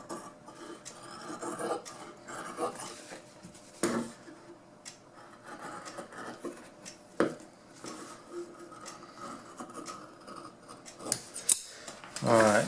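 Scissors snipping through upholstery fabric to trim a half-inch seam allowance for a homemade motorcycle saddle seat, a run of close, crisp cuts with small rustles of cloth between them.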